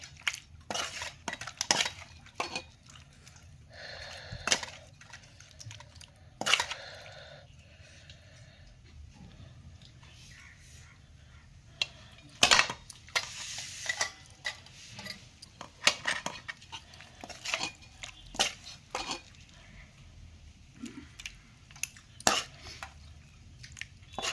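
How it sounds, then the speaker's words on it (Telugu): Chicken curry being served into a lunch box: repeated scrapes and clinks of a serving spoon against metal containers, close and irregular over a steady low hum, with a faint voice now and then. "ఇదిగోండి చికెన్ కర్రీ వేస్తున్నానండి"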